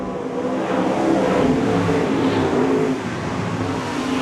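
Modified race cars roar hard along a New Zealand track as they accelerate out of a turn onto the straight. The loud engine note swells, peaks midway and eases off a little, with no talk over it.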